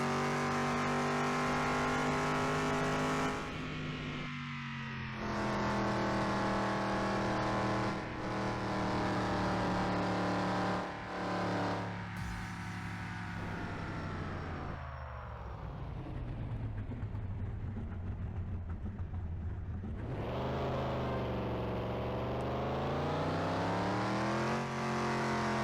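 Cars in traffic in the VirusHunter PC game, with engine tones rising and falling as they rev, accelerate and pass, heard loud and continuous in a game soundtrack for over twenty seconds.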